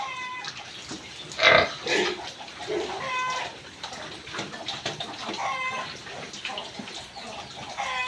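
Pigs, including pregnant sows, and other animal noises in a pen, with a loud squeal-like burst early on followed by scattered grunts and rustling.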